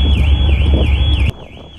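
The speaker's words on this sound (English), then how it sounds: "The movement sets off car alarms." A car alarm on a vehicle aboard an Interislander ferry wails loudly with a rising and falling siren, set off by the ship's movement, cutting off abruptly partway through over low engine and wind rumble.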